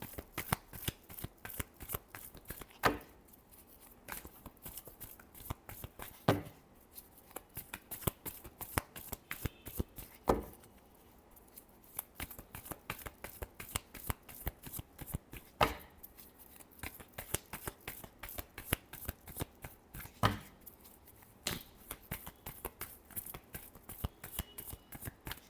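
Tarot cards being shuffled by hand, a long run of crisp, close riffling and flicking with a steady rhythm, broken every few seconds by sharper slaps as the deck is squared and cut.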